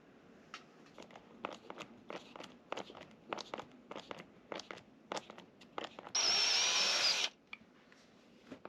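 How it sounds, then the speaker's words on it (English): A power drill pre-drills holes into fiberglass aboard a sailboat, one loud sustained whirring burst of about a second, set among quieter scattered knocks and shuffling footsteps. "I have to pre-drill everything because it's going into fiberglass"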